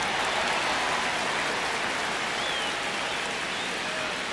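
A baseball stadium crowd in MLB The Show 26 keeps up a constant broad roar of cheering during a tense ninth inning between the Diamondbacks and Dodgers, steady throughout with no clear peaks.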